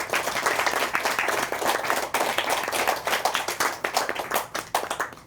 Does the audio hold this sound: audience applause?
yes